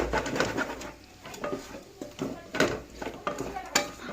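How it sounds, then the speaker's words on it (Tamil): A spoon scrapes and clinks in a pan while drumstick flowers cook with beaten egg, producing intermittent scraping strokes and light metallic taps over a faint sizzle. "கைவிடாமல் கிளறணுங்க, முட்டை உடச்சி ஊற்றுனதுக்கப்புறம்,"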